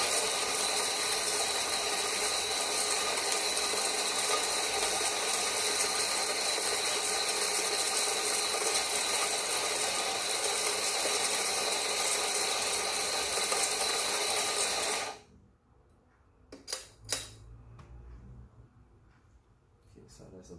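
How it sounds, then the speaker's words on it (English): An espresso grinder grinds coffee beans beside a Quick Mill Rubino HX E61 machine, producing a loud, continuous whirring crunch for about fifteen seconds that cuts off abruptly, followed by a few faint clicks and knocks. "As I grind the bean"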